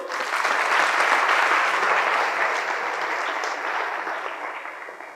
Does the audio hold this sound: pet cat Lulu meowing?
no